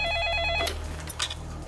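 A telephone rings with a short electronic trill that stops abruptly, followed by a faint low hum and a brief click, all quite close and alone.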